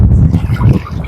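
Wind buffets the microphone aboard a small fishing boat on rough open sea off Camiguin, with a steady low rumble of gusts and water sloshing against the hull, loud and continuous, no voices.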